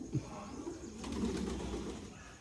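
Pigeons perched on a rooftop coo softly, a low throaty murmur rising and fading over a couple of seconds.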